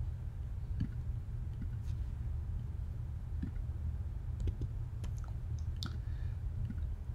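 Sparse, quiet keyboard clicks tap at irregular intervals over a low background hum.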